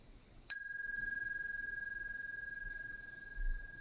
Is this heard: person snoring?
no